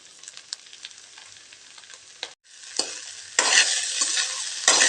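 Cooked rice with carrot stirred in a hot pan, close scraping and shuffling strokes over a soft sizzle that swells louder toward the end, no talking.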